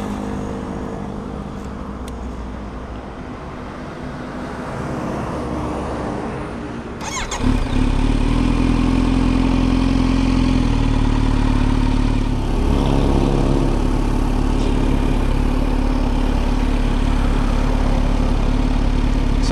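A 2023 Kawasaki Z900 inline-four motorcycle engine cranks and fires up, then settles into a loud, close, steady idle with a deep, even rumble.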